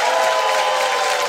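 An audience at a live literary and music event applauds the band in a short, steady burst of crowd clapping, with a faint tonal sound running underneath.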